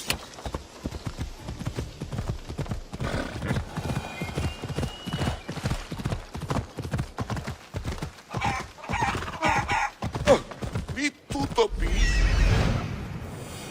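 A horse gallops in Assassin's Creed Odyssey, its hooves clip-clopping in a fast, dense rhythm over game ambience before a louder rushing swell near the end.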